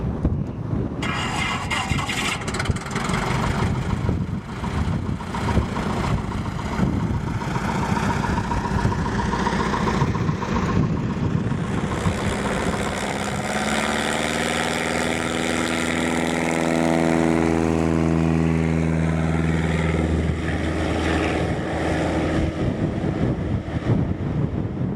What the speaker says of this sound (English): You guys can watch the takeoff here if you want.